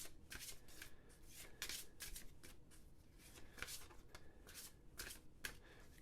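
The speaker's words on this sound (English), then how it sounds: "let's shuffle these locations" Location cards from the Marvel United board game being shuffled by hand, a run of crisp riffling bursts repeating in quick succession, close and clear with no talking.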